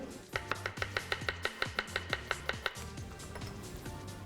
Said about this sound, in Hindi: slice and let's slice some onion